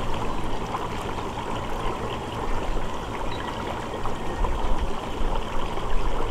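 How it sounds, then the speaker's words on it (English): Air bubbles from a diffuser running at about 5 psi churn continuously in a homemade worm tea brewer, giving a steady, fairly loud gurgling and rushing water sound with no speech. "this is about how the bubbles, how the diffusion and the bubbles should look."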